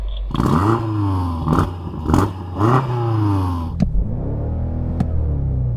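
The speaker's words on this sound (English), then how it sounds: "let's have a listen to that BMW" A BMW M5 engine revs hard several times in quick bursts, each rising roar falling away, then settles to a rumbling idle with a couple of sharp pops.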